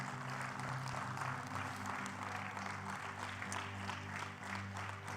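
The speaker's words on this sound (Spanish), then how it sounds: "Yo le daría un aplauso al Señor por eso." Steady, sustained applause from a church congregation at a family gathering, a dense even wash of clapping over a low background hum, holding at constant level throughout.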